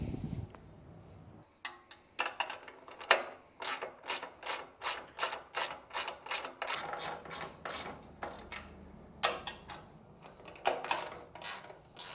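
Ratchet clicking in steady bursts while suspension mount bolts are tightened on an abandoned Ford F150, fairly close and clear with no talk, with short pauses between runs of rapid clicks.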